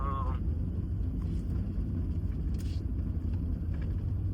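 Steady low rumble of a car driving, heard from inside the cabin, with faint wind noise and no clear talk.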